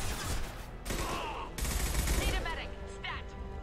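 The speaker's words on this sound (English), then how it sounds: "Firing a high-impact shot." Heavy high-impact gunfire from the video game Mass Effect 2 rings out in loud, dense bursts, with booming shots and rattling volleys layered over battle noise.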